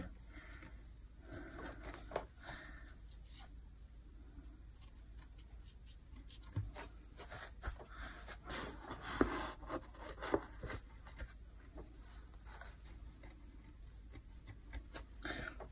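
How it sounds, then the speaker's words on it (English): Quiet snipping and rustling of scissors working through fabric, with small irregular clicks and rubs close by, no talking. "I'm going to cut just as close as I can without cutting the stitches"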